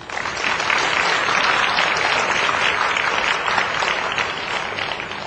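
A crowd claps steadily and enthusiastically for about five seconds, a dense wash of hands with no pauses.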